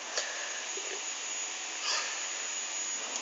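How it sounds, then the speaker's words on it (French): A steady broadband whoosh of a vacuum cleaner running throughout, fairly quiet and even, with no talking. "si vous entendez, c'est l'aspirateur"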